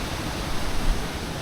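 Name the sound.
waterfall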